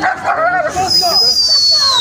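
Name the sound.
five-month-old dog barking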